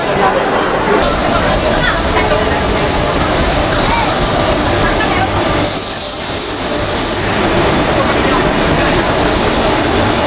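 A Puri Duronto Express train stands at platform 14 of Sealdah station in Kolkata, with a loud, steady roar of engine and hissing rail noise filling the platform and people talking beneath it.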